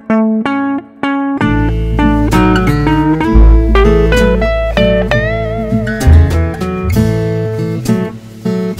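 A backing-track arrangement built in Band in a Box 2018 with reverb added, playing as continuous layered music with steady chords and bass throughout, loud and close.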